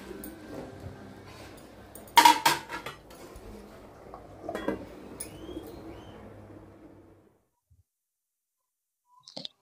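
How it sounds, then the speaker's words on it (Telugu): A spoon or ladle stirs tomato rice cooking in a pot, with scraping and a few sharp metallic clinks against the pot, close and moderately loud; quieter stirring follows before it goes silent and a faint clink ends it. "ఇలా మధ్యలో ఒకసారి అలా కలుపుకోవాలండి, ఎందుకంటే అడుగంటకుండా ఉండాలని."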